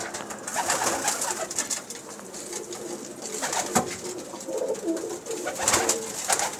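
High-flyer pigeons coo in low, throaty murmurs amid a busy, rustling background, with scattered flutters and soft knocks close by.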